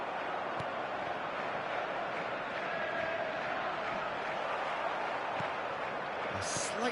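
Stadium crowd roaring at a sporting event, a steady dense wash of massed voices that holds at one level throughout, fairly distant, with a few faint sharp accents rising above it.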